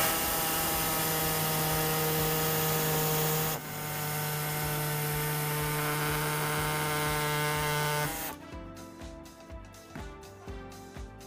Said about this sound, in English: For us here, we do have our air saw, so we'll be using that to do our trimming today.